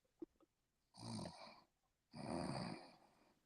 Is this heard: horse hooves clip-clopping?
no